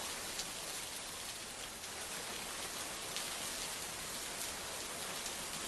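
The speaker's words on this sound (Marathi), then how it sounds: "जिल्ह्यामध्ये जोरदार पाऊस सध्या सुरू असल्याचं पाहायला मिळतंय" Heavy monsoon rain pouring in Solapur district, Maharashtra, a dense, steady hiss of downpour on surfaces, loud and continuous, with no voices.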